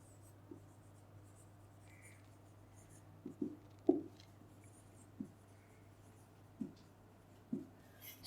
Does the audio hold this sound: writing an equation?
yes